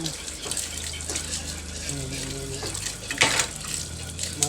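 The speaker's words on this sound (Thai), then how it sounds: "มาล้างมักลินไม้บ้านขูดแล้วก็มาล้างนะ" Scraped Indian trumpet tree pods are washed by hand in water, with sloshing, splashing and rubbing sounds close by under a steady low hum, and a brief louder splash near the end.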